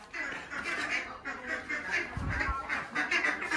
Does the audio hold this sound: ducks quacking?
yes